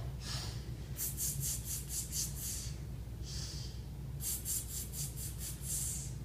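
A person doing a kettlebell breathing drill takes sharp, rhythmic sniffs in, clustered in quick bursts, with longer hissing exhales between, close over a steady low background hum.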